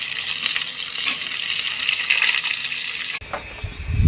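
Water is poured into a hot curry pan of potatoes and eggplant tempered with whole cumin and radhuni. A steady rushing splash shifts into a lower bubbling sizzle near the end.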